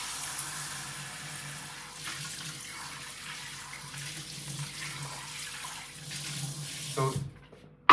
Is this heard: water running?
yes